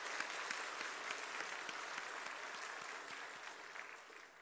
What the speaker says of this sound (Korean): 우리 수고하시는 선생님들 격려하는 마음으로 박수 한번 합시다